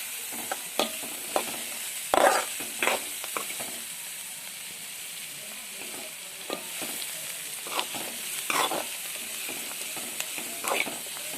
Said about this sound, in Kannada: ಚೆನ್ನಾಗಿ ಉಳ್ಳಾಗಡ್ಡಿ ಕರಗಬೇಕು ರೀ ಎಣ್ಣೆಯಾಗ